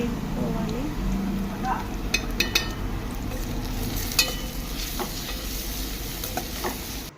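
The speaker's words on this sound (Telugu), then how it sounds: "ఇందులో అల్లం వెల్లుల్లి పేస్ట్ వేసి పసుపు కొంచెం పసుపు వేసి పచ్చివాసన పోయేదాకా మేపుకోవాలి" Ginger garlic paste with turmeric sizzling in hot oil in a pan while being stirred, a soft continuous fry with a few light clinks of the spoon against the pan.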